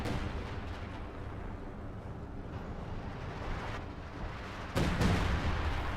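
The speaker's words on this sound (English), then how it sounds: "Artillery shots trying to land on that Su-85." Artillery in a Company of Heroes 2 4v4 match gives a constant rumbling barrage of distant booms, with one heavier, sharper blast landing near the end, no voices.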